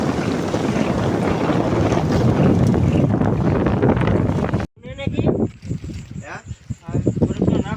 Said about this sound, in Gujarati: પવનની રેન્જ થોડીક વધારે છે